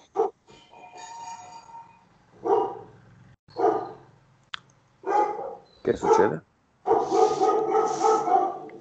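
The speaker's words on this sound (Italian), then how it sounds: "Cani abbaiano." Several dogs bark in short bursts and yips, fairly close, with a longer run of overlapping barks near the end and a person speaking briefly between them.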